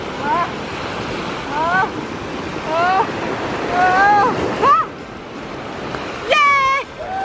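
Ocean waves wash onto a beach in Mexico with a steady rushing surf and wind noise, while a child's excited squeals and shouts rise above the water several times.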